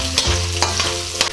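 Onion sizzles in a hot frying pan while being stirred, heard close and loud. A steady frying crackle runs under sharp scraping strokes of the spatula, with no talking.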